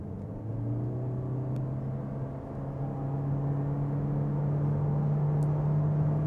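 A 2024 Toyota C-HR accelerating from 40 km/h on a gentle climb, heard from inside the cabin: a steady engine hum and road rumble that rises slowly in pitch and grows slightly louder throughout.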